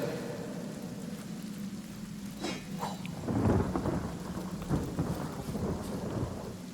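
A rain spell in the video game Divinity: Original Sin Enhanced Edition brings a steady hiss of downpour, with a deep rolling thunder rumble swelling midway and fading back into the rain.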